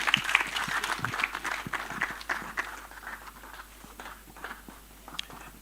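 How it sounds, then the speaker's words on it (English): An audience at an unconference claps as speakers leave the stage, the applause loudest at first and then gradually thinning out, with a few scattered claps continuing near the end. "let's clap hands for our speakers as they leave the stage"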